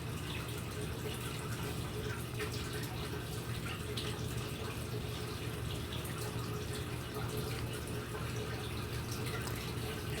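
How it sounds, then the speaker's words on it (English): Water from a canister filter outflow pours steadily into an aquarium, making a continuous close splashing, gurgling wash with no pauses and no talk. "this one I'm clipping like this because Dobby likes waterfalls"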